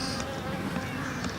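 Honey bees buzzing during a beehive inspection, a steady close drone of many wings filling the moment, fairly quiet and continuous with no talk.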